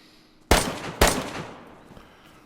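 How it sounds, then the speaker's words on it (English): Distant gunfire from another player in DayZ, two sharp shots about half a second apart, followed by a long echoing decay and quiet ambience. "Oh, somebody's firing too."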